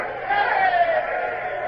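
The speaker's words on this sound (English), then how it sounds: "What are those idiots cheering" A ship's crew cheering, a sustained crowd roar of many voices heard at a distance, steady and fairly loud, rising slightly partway through.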